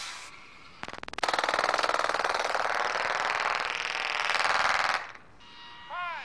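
Rocket engine on a human-built flying saucer test-fired, starting with a sharp crack and then a loud rough rattling roar that holds for about four seconds before cutting off abruptly.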